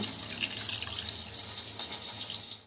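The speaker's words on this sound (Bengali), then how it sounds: "অল্প একটু পানি অ্যাড করছি," Water is poured steadily into a pan holding fried hilsa fish, giving a continuous close splashing rush with no speech.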